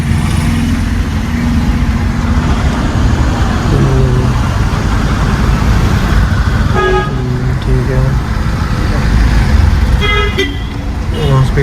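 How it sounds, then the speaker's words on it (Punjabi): A learner's car pulls away on a road in Phagwara during a driving lesson, its engine and traffic noise loud and continuous, with several short horn toots and voices talking over it. "ਤੋਰੋ ਗੱਡੀ"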